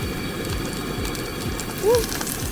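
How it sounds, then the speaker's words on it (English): Bacon sizzles in a pan at a campsite with a dense, even spitting crackle close by and a short faint squeak partway through. "Now Devin is putting on the bacon"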